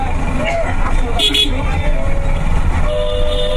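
A car horn honks briefly amid dense road traffic, a couple of short toots standing out over a constant rumble of engines, with people talking throughout.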